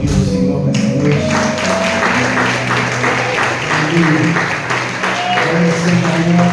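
A church congregation claps together during an evening service, a continuous dense patter of many hands over sustained musical tones, fairly loud and steady throughout.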